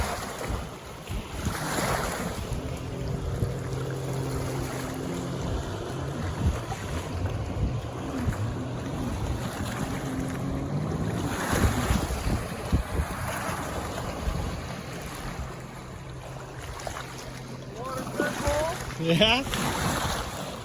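Sea-Doo RXT 255S personal watercraft running out on the water during a test ride, a steady engine drone mixed with wind buffeting and splashing waves, with a brief voice heard over it.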